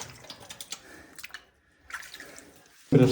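Running water splashes irregularly as hands are washed at a tap in Laos. The water stops briefly partway through, then returns in a loud, close burst at the end.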